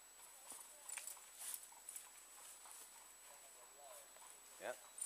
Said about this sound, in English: I've got some horses going by now